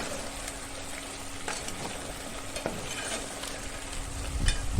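Salted onion-coconut masala sautéed in a pan, a continuous dense sizzle with occasional scraping strokes of the spatula, loud and close throughout with no voices.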